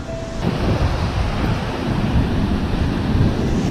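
Ocean waves wash in and break on an Australian fishing shore near a reef, a steady, loud surf roar with wind buffeting the microphone throughout.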